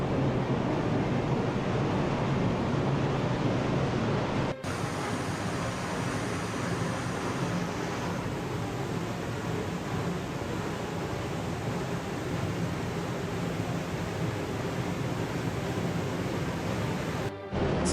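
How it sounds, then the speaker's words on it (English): Steady broadband roar of a walk-behind waterfall at Silver Falls State Park, Oregon, filling the whole stretch at close range with no voices. "This made for 4 walk-behind waterfalls."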